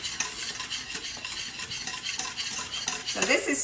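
A whisk scrapes and stirs steadily through thickening chocolate gravy in a pan, a continuous close swishing with a light sizzle that grows busier toward the end.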